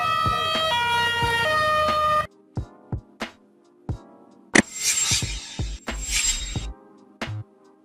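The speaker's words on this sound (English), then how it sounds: "Ambulance motorcycle, motorcycles used for rapid response and emergency medical care." An ambulance motorcycle's siren gives a loud stepped electronic tone for about two seconds, followed by short separate blips and then a burst of harsher, noisier sound.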